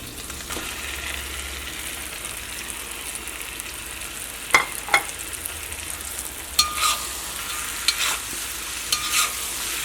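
Fried chicken pieces stirred into masala in a pan, a steady sizzle running throughout with a few sharp scrapes and clinks of the spoon around the middle and latter half, close and moderately loud, no talking.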